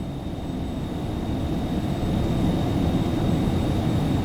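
Phenom 300 business jet taking off in X-Plane 12, a steady broadband engine roar that builds slightly in loudness and holds, with a faint high whine running through it.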